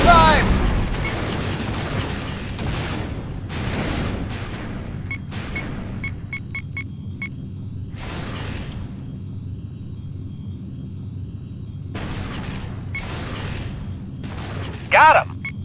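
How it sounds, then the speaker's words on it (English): Heavy fire and explosions in the space combat game X-Wing Alliance, with repeated booming blasts and rumbling impacts spaced across the span, some chirping laser-like pulses in between, and a voice speaking at moments. "We're taking heavy fire over here."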